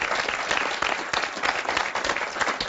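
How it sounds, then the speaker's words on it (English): A studio audience at a televised political discussion breaks into a strong, sustained round of applause for a young Muslim law student, many hands clapping together in a thick, even wash with no talk over it. "I want to give a round of applause to Shabana Box"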